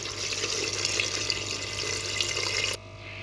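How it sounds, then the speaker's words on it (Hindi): Water from a tap gushes steadily into a pot of mutton for a meat stew, a loud splashing pour that stops abruptly near the end and leaves quiet room tone. "1 लीटर मैंने इसमें पानी डाल दिया है।"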